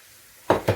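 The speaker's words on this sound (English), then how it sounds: "So we're going to give it a stir. And then we just want to add the eggs." Eggs drop into a hot pan of leftover pork fried rice, bringing two quick, close bursts of sizzle and clatter after a near-silent start.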